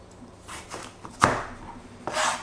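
A kitchen knife chopping celery and tomato on a cutting board for curried lentil soup, a handful of separate, close thuds and slicing strokes spaced irregularly, with no voices.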